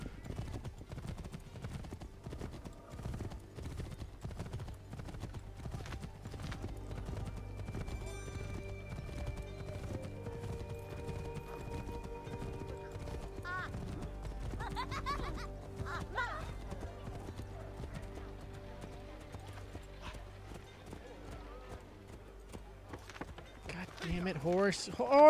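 Horse hooves clip-clop in a steady galloping rhythm throughout in Assassin's Creed 3, with a horse's whinny, quiet background tones and voices speaking faintly.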